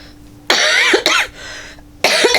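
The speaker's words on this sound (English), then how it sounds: "I'm sorry about the cough." Two or three loud, harsh coughs from a man with a lingering cough, close to the mic, a burst at the start then another after a short pause, with no talk in between.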